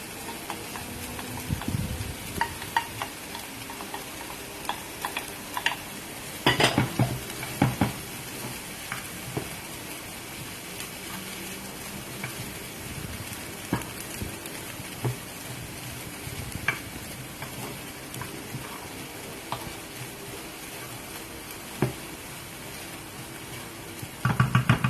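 Shrimp fried rice with scallion and mixed vegetables being stir-fried in a pan for a Jamaican-style recipe, with a steady soft sizzle and intermittent scraping and clattering of a utensil, no talking.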